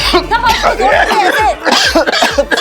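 A man in a family scene from a Hindi TV drama coughs in several quick, harsh bursts, close and loud, while other people talk and laugh over him.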